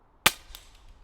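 A single sharp air rifle shot at a hunter field target shooting event, a crisp close crack followed by a faint distant knock from the target, then quiet.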